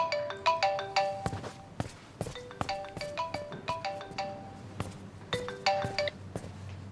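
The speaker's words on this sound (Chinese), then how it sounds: "谁电话？" A mobile phone ringtone plays a bright, repeating electronic melody of quick tones, close and clear, cycling for several seconds with no speech.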